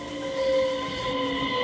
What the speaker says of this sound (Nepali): यो चाहिँ डेनमार्कदेखिबाट आएको ट्रेन हो, कोपेनहेगनदेखि गोथेनबर्ग चल्छ यो ट्रेन चाहिँ।